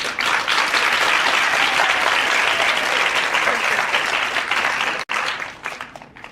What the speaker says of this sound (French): À la fin de la danse, tout le monde applaudit.